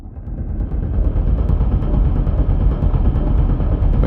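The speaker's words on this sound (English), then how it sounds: "And you can hopefully hear that reverb" BEAM by Lunacy granular synth run through heavy reverb, a loud, dense low rumbling wash with a grainy crackling texture, steady and continuous throughout.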